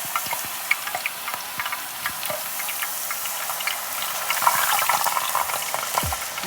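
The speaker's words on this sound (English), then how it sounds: "Drain your water out so it don't pop too much. The Fried Daddy is so much easier because it actually saves space." Food deep-frying in a FryDaddy electric deep fryer gives a steady, dense crackling sizzle dotted with small scattered pops, fairly close and with no talking.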